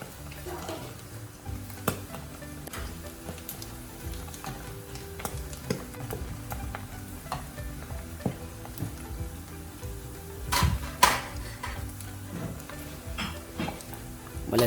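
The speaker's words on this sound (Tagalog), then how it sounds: "Malapit na maluto ang ating chicharon." Crispy chicken skin chicharon frying in hot oil gives a steady, busy sizzle full of crackles and pops, with a few sharper bursts near the end, and no talking over it.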